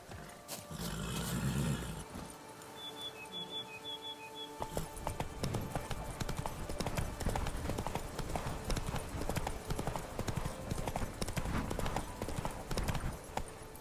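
Hooves of Roach, Geralt's horse in The Witcher 3, clip-clop steadily across the ground in a fairly quiet game scene, the rhythmic strikes continuing for most of the stretch with faint ambient game sounds behind.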